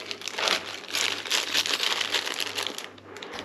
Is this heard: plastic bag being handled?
yes